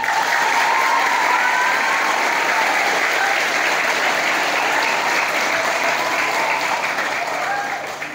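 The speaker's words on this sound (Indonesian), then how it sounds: "Nusantara merindukan tepuk tangan antum hari ini." Audience applause at an Islamic boarding school event, a dense, loud, sustained clapping from a crowd that holds steady for several seconds before starting to fade.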